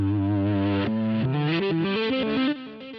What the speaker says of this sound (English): this setting I have set to do backwards effects